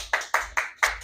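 Four sharp single hand claps for seminar attendees, evenly spaced about a quarter second apart, close and crisp, each with a short decaying tail and no voices.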